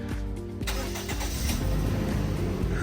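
A Toyota Innova 2.0G Exclusive engine cranks and catches, then settles into a steady, close idle with a low mechanical hum.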